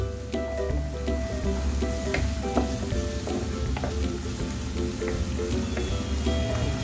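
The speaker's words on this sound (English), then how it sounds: "we will fry the onions for a minimum of 2 minutes till the onions are nice and golden" Onions frying in a pan with butter-chicken spices nearby, a steady close sizzle with crackling pops and occasional stirring scrapes running throughout, no talking.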